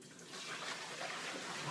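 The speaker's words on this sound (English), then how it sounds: "So I empty out whatever we just ate, and then do a good rinse" Water from a tap rushes steadily into a crock pot as it is rinsed out, a close, continuous hiss with no talking.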